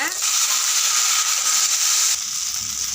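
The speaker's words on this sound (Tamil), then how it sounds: "நல்லா வெங்காயம் வதங்கி வந்துட்டுங்க" Onions and dried red chillies frying in sesame oil for a Tamil varamalli chutney, a steady close hiss and sizzle that runs throughout and drops slightly in the last second.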